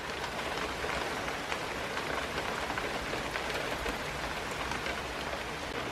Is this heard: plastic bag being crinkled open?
no